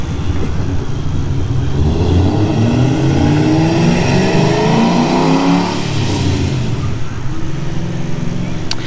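A supercharged 1997 Ford Mustang with side-exit dump exhaust pulls away down a street, its engine rumbling loud and steady and slowly fading as it drives off gently.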